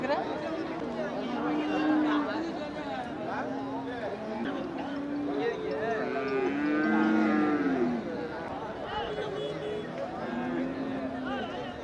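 Cattle moo repeatedly at a busy cattle market, several low drawn-out calls rising over constant crowd chatter and nearby voices talking.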